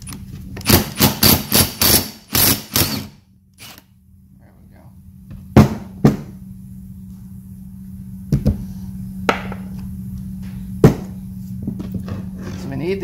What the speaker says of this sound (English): So we're gonna take the shaft off.